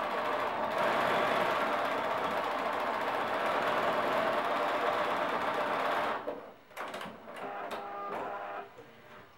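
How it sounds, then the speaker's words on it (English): A sewing machine runs a zigzag stitch along a skirt seam, a steady loud whirring for about six seconds that then breaks into short start-stop bursts as the stitching is reversed and finished. "using a zigzag stitch, you want to sew up and down just to secure the ends together"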